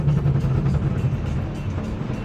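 BMW M850i coupe driving through Philadelphia on a weekend, its engine and exhaust giving a steady, fairly loud low rumble throughout from inside the car.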